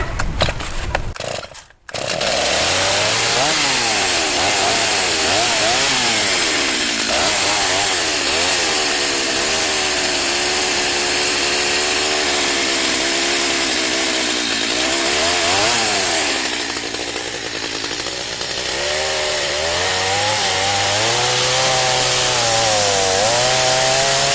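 Stihl MS230 chainsaw engine, running after a cylinder-head thread repair: a loud, close, continuous two-stroke buzz that starts abruptly, with the pitch rising and falling as the throttle is blipped, no talking over it.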